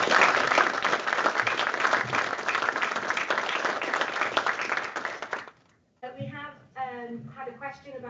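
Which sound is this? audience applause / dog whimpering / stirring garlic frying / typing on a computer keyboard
audience applause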